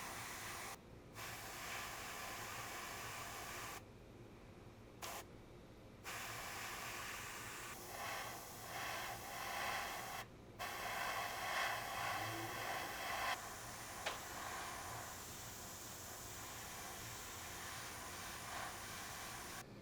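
Airbrush spraying paint onto a P-40F Warhawk scale model, a faint steady hiss in bursts, cutting out briefly between passes.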